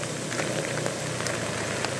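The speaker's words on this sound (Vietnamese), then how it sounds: "những cơn mưa nhiều khi rất là lớn" Heavy rain pours onto a suburban street on Nguyễn Bình in Nhà Bè, Saigon, a close, steady roaring patter of drops hitting pavement without any talk.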